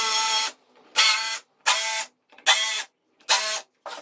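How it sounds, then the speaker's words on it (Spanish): Power drill fitted with a countersink bit boring into wood: five loud, close whirring bursts of about half a second each, separated by short pauses, with no voices. "utilizaremos una broca para avellanar para que la cabeza del tornillo quede al ras"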